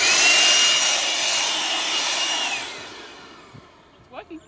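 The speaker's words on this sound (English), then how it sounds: "She's stolen the blower and trying to blow them away." An outdoor blower, used to blow bugs away at an off-grid camp, hisses loud and steady, then fades out over a few seconds, leaving quiet with a few brief faint sounds.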